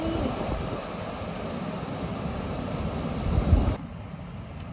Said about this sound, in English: The wind is windy.